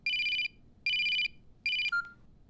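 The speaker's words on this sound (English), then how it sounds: "After work, her phone rings." A telephone ringtone sounds three times in even, bright electronic bursts over a low background murmur, and the third ring is cut short by a click.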